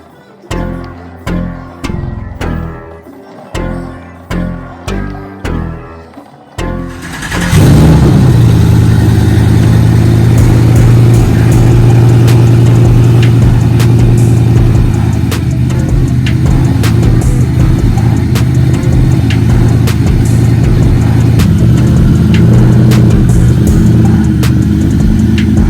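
A Ford F100 truck's starter cranks in rhythmic pulses for several seconds, then the engine catches and roars to life, settling into a loud, steady running rumble close by as the truck sets off on its first drive.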